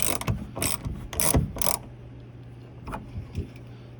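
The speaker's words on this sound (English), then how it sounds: "So it's not tight, so you can get this wrench in here. You tighten up this locating cone." A ratchet wrench tightens the roof panel locating cone on a 1984–1986 Corvette, giving quick close clicking strokes in short bursts, then fainter ticks.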